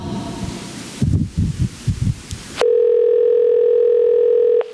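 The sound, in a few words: telephone dial tone as a man makes a call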